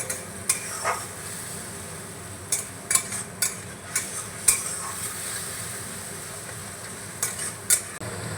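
Spice paste being stirred into a hot pan, a soft continuous sizzle broken by repeated sharp clinks and scrapes of the spoon against the metal, close and without speech.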